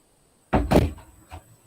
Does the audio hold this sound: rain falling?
no